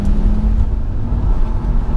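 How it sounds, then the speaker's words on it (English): A turbocharged Audi RS2 engine accelerating with a loud, steady, throaty rumble, heard from inside the car. "you're just waiting for that noise, that whoosh of turbocharge to come in"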